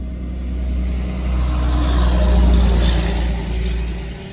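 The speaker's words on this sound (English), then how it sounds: "so many trucks." Road traffic during a drive, with large trucks passing: a loud, continuous low rumble of tires and engines that swells and fades gently as vehicles go by, with no talking.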